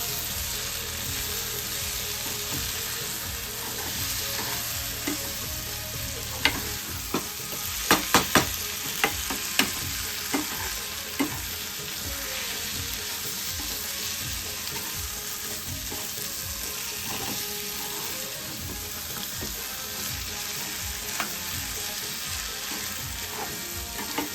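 Spiced bangda (mackerel) kheema fries in a pan, giving a steady broadband sizzle. A cluster of sharp spoon-against-pan clicks from stirring sounds close around the middle of the stretch.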